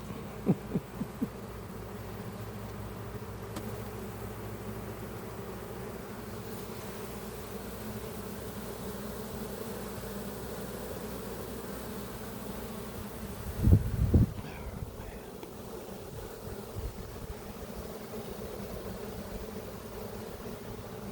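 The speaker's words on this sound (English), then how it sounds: "They just did a big orientation flight and we had bees out the door like crazy." Honeybees swarm out of the hive in a steady, dense buzz after an orientation flight, with a brief louder thump or handling noise partway through.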